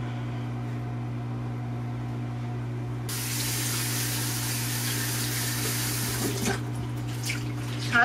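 A tap runs steadily into a basin for rinsing the face after a homemade scrub, as a low hum gives way to a louder rush of water partway through with a few splashes near the end.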